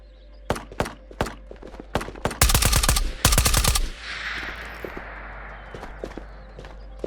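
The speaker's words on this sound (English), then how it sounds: "They're shooting at somebody over here already?" Gunfire in the VR shooter Ghosts of Tabor: scattered single shots followed by two rapid automatic bursts, then a fading echo and a few more distant shots, fairly close and sharp.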